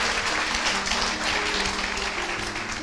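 An audience gives sustained applause in honor of soldiers, a steady wash of many hands clapping at moderate level, with a faint low hum underneath.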